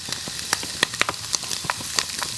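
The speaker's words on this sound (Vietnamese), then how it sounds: "Rồi tiếp theo mình cho tỏi vào chiên cho thơm luôn nha các bạn." Bacon and garlic sizzle and crackle in a dry pan, steady frying noise with sharp irregular pops spread across the whole stretch, close and fairly loud with no talk.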